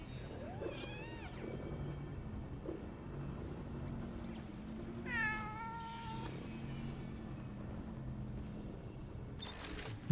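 A cat lets out two clear, rising-and-falling meows a few seconds apart, moderately near, over a steady low hum of background noise.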